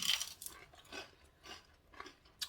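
Carnivore snack chips are crunched close to the microphone in a slow, even rhythm of bites and chews, about two per second, with no talking.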